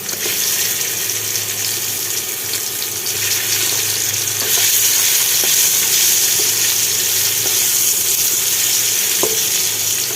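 Ingredients frying in a hot oiled wok (kadai), a continuous loud sizzle with faint scattered pops and a light utensil tap near the end, no talking.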